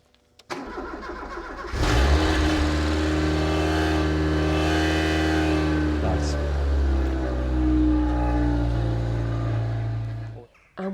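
A project car's engine cranks, catches and fires up, then holds a loud, close, steady rev with a deep rumble before cutting off near the end.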